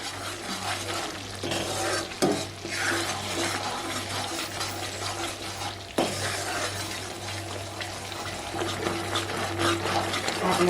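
A ginger candy mixture with pepper, turmeric and salt is stirred in a hot pan, continuous scraping and sizzling up close with a couple of sharp knocks of the spoon against the pan.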